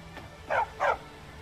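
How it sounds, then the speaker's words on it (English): Dog in the Skyrim video game giving two short barks in quick succession, fairly close and clear over a quiet background. "Oh, a doggy. Hello, doggy."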